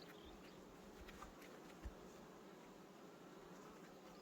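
Honeybee colony at an open hive on Estonian frames, a steady, close, dense buzzing that holds evenly throughout with no voices.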